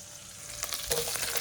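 Chopped onion and carrot sizzling in a frying pan, a soft steady fry that picks up a little with crackling bursts partway through.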